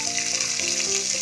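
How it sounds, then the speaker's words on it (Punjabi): Onions and garlic fry in a cumin tempering for dal, giving a steady, close, even sizzle with a faint hum underneath. "ਦੇਖ ਸਕਦੇ ਹੋ ਆਪਣਾ ਤੜਕਾ ਭੁੱਜ ਰਿਹਾ ਵਾ"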